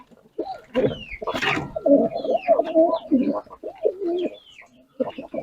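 Pigeons coo close by in a repeated, throaty rhythm, several birds overlapping in low rolling calls with a few brief pauses.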